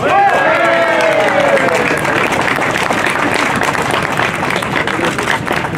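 Crowd at an ice-racing event applauding a race driver, loud dense clapping and cheering close by, with a voice talking over the start.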